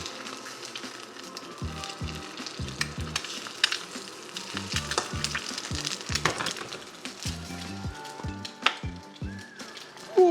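Garlic fried rice ingredients sizzling in a hot pan just after flipping, a crackling fry under repeated scraping and tapping of a utensil, close and fairly loud, no talking.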